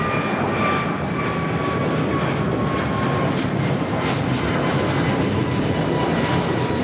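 An airliner taking off from runway 25 right at LAX: a steady, broad engine roar that holds loud and continuous throughout.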